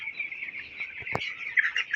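Eighteen-day-old meat chicks on a farm chirp in a continuous, high-pitched chorus, close and moderately loud, with one sharp knock partway through.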